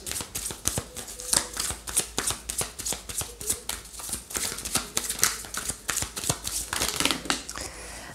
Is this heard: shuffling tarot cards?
yes